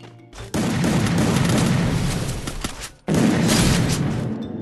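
Gunfire in a mobile shooting video game: dense, loud bursts of rapid shots filling the clip, with a brief pause near the start and another gap around three seconds before firing resumes.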